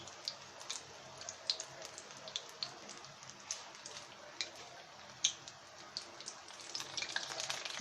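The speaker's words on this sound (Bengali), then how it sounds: "এটা এখন ভাজা হবে আমরা উল্টে পাঁচে ভেজে নেব" Batter-coated pumpkin flower fritters frying in oil, with a steady soft sizzle and scattered small pops and ticks at an even, modest level, no talking.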